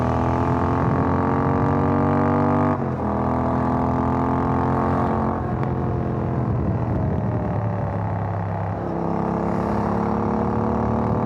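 A Royal Enfield Interceptor 650 twin-cylinder motorcycle, ridden in rainy weather, accelerates hard with the throttle opened, its engine pitch climbing through the gears with brief dips at each shift, close and loud without speech.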